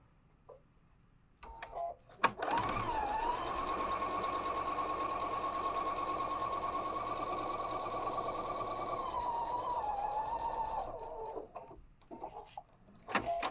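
A sewing machine stitches a quarter-inch seam along the edge of fabric, running in one steady, even whir for about eight seconds before stopping, with a few soft handling clicks before and after.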